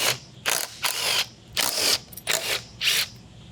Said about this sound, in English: we're going to take our impact and remove this band clamp